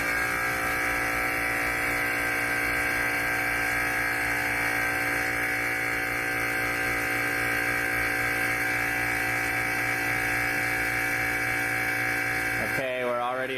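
Steady, loud mechanical drone of a vacuum pump evacuating a chamber holding an iPhone, a constant tonal hum with overtones that continues unchanged before a short warbling shift at the end.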